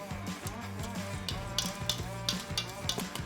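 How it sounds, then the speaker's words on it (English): A glaze is stirred into a paste for a glazed spiral ham, with soft rhythmic scraping and wet mixing sounds repeating every fraction of a second, close and fairly quiet. "now we're just going to mix this up."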